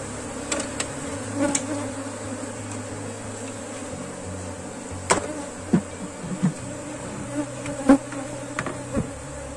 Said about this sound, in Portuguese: E aqui o enxame.